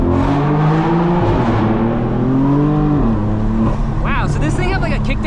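A 2015 BMW M4 with a DCT tune accelerates hard, its engine roaring loudly and climbing in pitch, dropping back briefly at a gear change, then pulling up again from inside the cabin.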